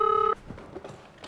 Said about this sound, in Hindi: किसका फोन आ गया यार?